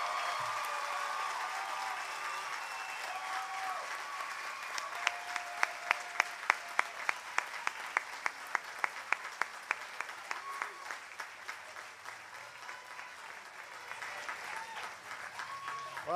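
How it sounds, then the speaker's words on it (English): Sustained applause for the graduating class of 2009 at a university commencement ceremony: a broad crowd wash throughout, with a run of loud, evenly spaced individual claps standing out through the middle before easing back into general clapping. "Let's have a huge round of applause for the graduating class of 2009."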